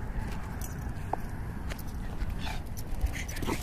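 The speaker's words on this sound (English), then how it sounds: "you guys get to watch him being a wild dog over some planes" Outdoors on a walk, a dog plays wildly over some planes, with short whimpers and scuffling movement against a constant background rumble.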